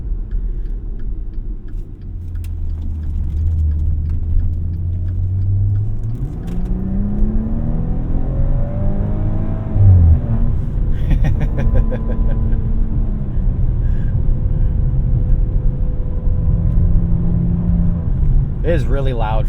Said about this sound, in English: you put this in the sport mode, and it opens up the baffles in the back here and makes it a lot louder